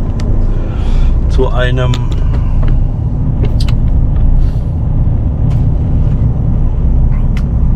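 A car driving on a road near Wolfstein on a cold day, with a steady loud engine and road rumble throughout, under someone talking and some brief clicks and higher sounds.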